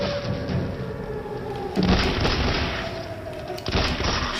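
Gunfire in the shooter video game The Bureau: XCOM Declassified, with two sharp bursts of shots and booms breaking through a steady bed of game background noise.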